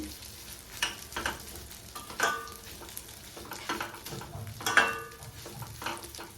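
Vermicelli frying in a pan until golden brown gives a low, steady sizzle, with a few louder scrapes and stirring clatters spaced across it and no voices.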